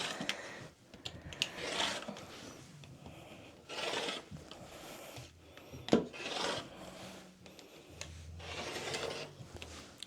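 Quilting fabric being cut to size gives repeated rasping, rubbing strokes in short bursts, close and quiet, with small clicks between passes.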